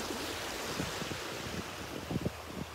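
Steady wind rushes across the microphone on the beach at Delnor-Wiggins, a broad, continuous roar with low buffeting gusts and faint surf beneath, close and unbroken.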